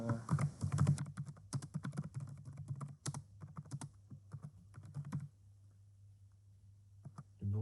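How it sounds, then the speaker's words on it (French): Keys on a computer keyboard clatter in quick, uneven bursts of typing, close and crisp over a low steady hum, with pauses after about five seconds before a final burst. "Le bruit de ton clavier est vraiment bien à travers un casque."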